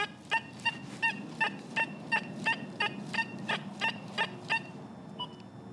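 A metal detector's fast program pitch-tone response: a rapid series of short, bright electronic beeps with a fluttering pitch, about a dozen evenly spaced pulses over a low steady hum.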